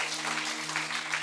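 A church congregation claps steadily in dense, sustained applause over a faint low hum, with no break for the whole brief moment.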